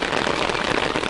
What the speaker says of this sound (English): the rain has come.